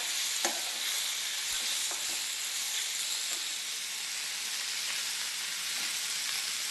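Tomatoes frying in a pan while preparing okra gojju, a continuous bright hiss and sizzle with a few spoon scrapes and taps, heard close with no voices.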